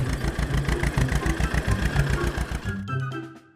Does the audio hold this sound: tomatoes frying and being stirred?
no